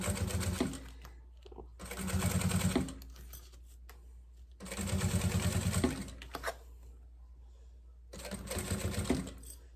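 Sewing machine stitching the lining of a maternity bag, running in three or four bursts of rapid mechanical whirring separated by pauses, close and clear, with faint handling noises between runs.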